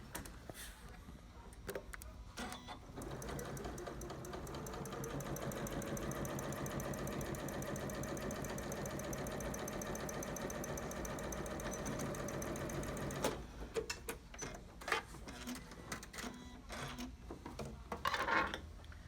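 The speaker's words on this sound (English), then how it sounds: "I'm just going to stitch a really small seam right on the edge of that opening." A sewing machine stitches a short seam along the edge of a small fabric pouch opening, a rapid steady mechanical whirring and clatter held for about ten seconds, with quieter handling clicks before and after.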